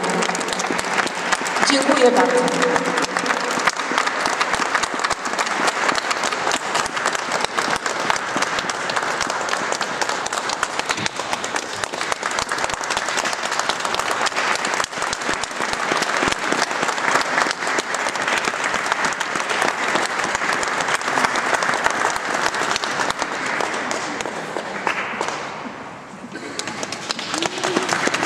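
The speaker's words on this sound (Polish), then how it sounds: "wielkie, wielkie brawa dla nich." A concert audience gives sustained, dense applause to the performing artists, steady and full for nearly half a minute before briefly dipping near the end, with a short spoken word over it.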